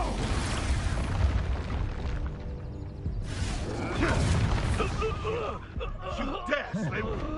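Expulso spell explosions in Hogwarts Legacy, repeated booming bursts and whooshes over a constant game din, with voices shouting in between.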